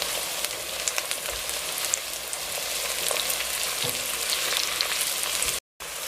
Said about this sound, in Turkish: Ve şimdi bu şekilde kabaklarımı da kavurmaya bırakıyorum.